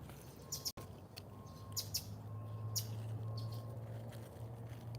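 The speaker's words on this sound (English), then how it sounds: "The birds are so active." Birds chirping in the early morning near a garden feeder, with a few short, bright tweets repeating at intervals over a quiet, low background hum.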